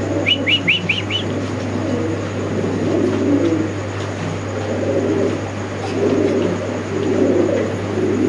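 Spanish pigeons cooing in a loft, a few short repeated coos early on and then a steady low murmur of cooing throughout, with chirpy calls over a constant low hum.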